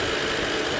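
The 6.75-litre V12 engine of a 2016 Rolls-Royce Phantom Drophead Coupé idles as a smooth, steady, quiet hum with no talk over it.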